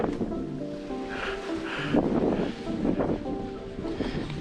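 Strong wind buffets a seaside harbour marina, a steady rushing roar with rustling and flapping gusts, close and fairly loud, with no voices over it.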